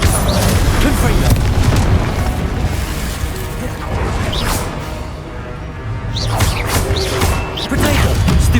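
The Confringo fire spell in Hogwarts Legacy goes off amid combat, giving loud booming blasts and crashes over a dense, continuous layer of battle noise and spell effects.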